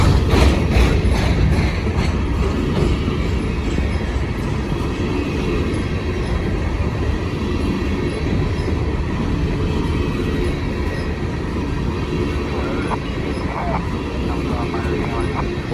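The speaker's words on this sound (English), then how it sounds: "So this train should have somewhere around 118 cars on it." A long Norfolk Southern freight train of about 118 cars, pulled by two locomotives, rumbles steadily across a high trestle bridge over a city, a loud continuous roar with occasional faint wheel squeals near the end.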